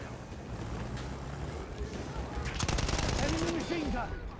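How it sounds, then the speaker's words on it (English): Hostile machine gun fire in Battlefield 1 on the Oil of Empires operation rattles in a rapid burst of shots, swelling louder midway over a constant rumble of wind and battle noise. "Machine gun, hostile."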